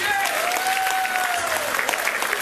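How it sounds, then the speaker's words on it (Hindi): An audience applauds at a music event in Sydney, steady dense clapping at moderate distance with a wavering tone sounding behind it. "इनके लिए ताली जरूर बजी"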